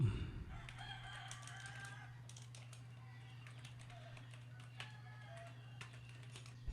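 Sparse, faint clicks of typing on a computer keyboard, with a rooster crowing in the background during the first couple of seconds and a low steady hum throughout.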